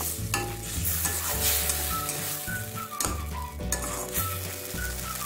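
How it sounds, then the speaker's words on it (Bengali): Soaked gobindobhog rice frying with spice paste in a pan, a constant sizzle broken by repeated scraping and clinking of a spatula against the metal as it is stirred. "এবার ভিজিয়ে রাখা গোবিন্দভোগ চালটা দিয়ে দিলাম। মশলার সাথে খুব ভালো মতো একটু ফ্রাই করে নেব।"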